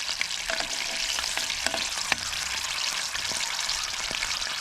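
Seaweed fries in hot oil over a camp stove, a dense steady sizzle with a few soft scraping knocks as it is stirred, close and continuous with no talking.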